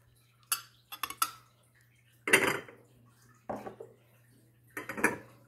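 Small square Royal Albert china dessert bowls being handled, producing a few close, separate clinks and knocks with quiet pauses between them.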